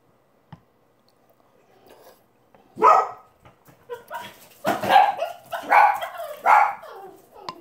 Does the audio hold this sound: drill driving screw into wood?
no